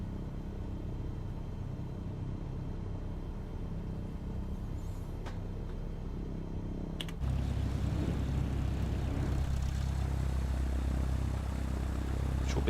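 Propeller airplane taxiing in a flight simulator, a steady low engine rumble that steps up louder partway through as power is added, continuous and without talk.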